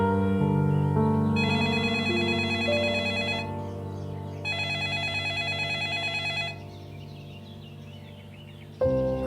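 An unanswered phone rings with repeated electronic ringtone bursts, a melodic tone pattern looping over a steady hum before cutting off abruptly at the end.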